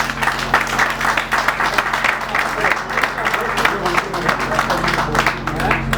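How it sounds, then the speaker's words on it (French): An audience at a political gathering applauding together, a dense sustained wash of clapping with a steady background hum, with a voice speaking over it. "Je me permets de vous demander d'abord de vous applaudir vous-même."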